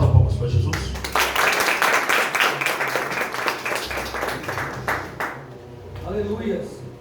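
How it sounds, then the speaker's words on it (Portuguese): A church congregation claps hands during a Portuguese-language pastors' and leaders' gathering, producing a dense, continuous patter of many hands that fades out near the end, with voices mixed in. "Bata palmas para Jesus."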